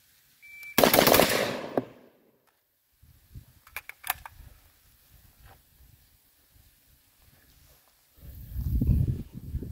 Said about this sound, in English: So going to be firing with a standard milspec trigger.